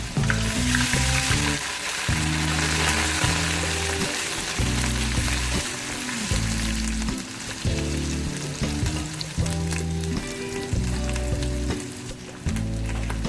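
Steady loud sizzling of garlic ginger paste frying in hot oil, crackling continuously without pause.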